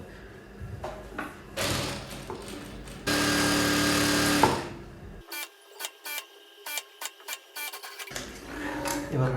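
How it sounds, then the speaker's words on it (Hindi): A sewing machine stitches the lower part of a corset bra piece in short bursts of rapid mechanical clatter, interrupted by a louder steady whirring run and brief pauses, close by. "और अभी हम ये नीचे वाले पार्ट पे इस तरीके से स्टिचिंग लगाएंगे यहाँ पे"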